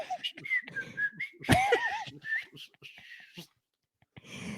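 A man at work tries to whistle but can't quite manage it, producing a wavering, breathy, off-pitch tune broken by sharp noises and brief talk, close and fairly loud.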